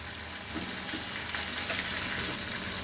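Ground turmeric and spices frying in a pan for a shing fish curry with bottle gourd leaves, a continuous close hissing sizzle with soft stirring scrapes, no talking.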